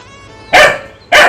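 Jackie, a pet dog, lets out two loud, sharp barks at monkeys, close by and about half a second apart.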